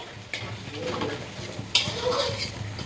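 Prawn curry being stirred and sautéed in a pan, with spatula scrapes and knocks over a frying sizzle, close by, with faint voices in the background.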